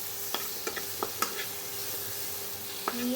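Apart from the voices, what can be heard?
stirring chopped tomatoes frying in a pan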